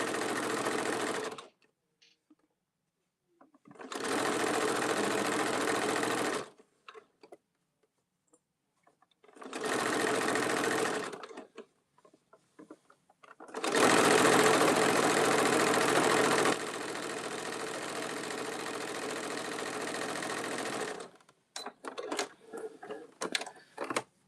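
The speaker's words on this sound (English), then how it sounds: "tight, small stitch so that it closes my handle. We're just going all the way down." A sewing machine runs tight, small stitches down a folded tote bag handle to close it, whirring loudly in four separate bursts of a few seconds each, with short quiet pauses in between and light handling noises at the end.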